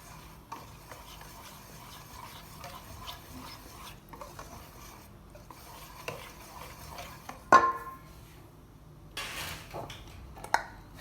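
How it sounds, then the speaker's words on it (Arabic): Batter of oil, sugar, eggs and cornstarch stirred in a bowl, giving a steady rasping, scraping churn with light clinks of utensil against the bowl and one sharper knock near the end, close and fairly quiet, with no voices. "نخلط"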